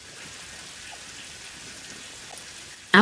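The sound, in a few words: rain falling in a video game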